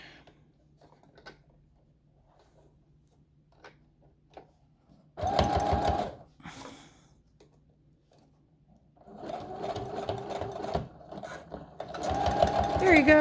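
A sewing machine stitching the pleats of a fabric face mask, running in short bursts of rapid mechanical whirring separated by quiet pauses, with faint handling noises between runs.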